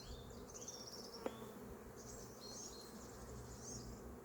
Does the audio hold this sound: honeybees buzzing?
yes